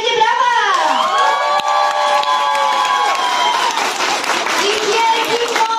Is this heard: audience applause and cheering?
yes